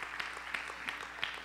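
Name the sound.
congregation applauding during a sermon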